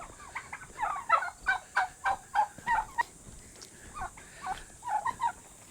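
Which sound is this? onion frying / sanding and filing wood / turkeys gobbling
turkeys gobbling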